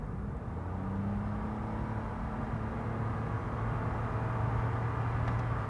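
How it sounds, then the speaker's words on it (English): Inside a 2021 Toyota Yaris Hybrid accelerating hard, the CVT gearbox gives off a steady droning buzz over road rumble, its pitch rising slowly as the car gathers speed. "So you get that buzzing sound that's very CVT"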